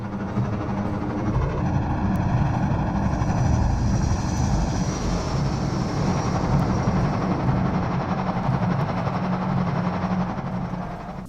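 Deep, sustained mechanical roar and hum from a Citadel transport pod ascending while attack choppers head out in Half-Life 2, a steady loud drone with a thin high whine layered on top.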